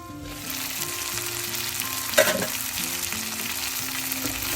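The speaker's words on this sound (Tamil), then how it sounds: "ரெண்டும் சேர்ந்து வதங்கட்டும் நல்லா. மூடி விடுவோம், நல்லா வதங்கட்டும்." Chickpeas and tomato sauté under a lid with a steady, dense sizzle and faint bubbling, close and even, broken once by a brief clink near the middle.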